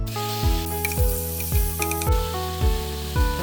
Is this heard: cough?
no